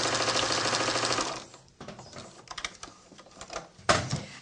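Sewing machine stitching fabric for a pocket tissue holder: a steady, fast mechanical whir for about a second and a half, then short stop-start bursts of needle clatter, close and loud with no talk.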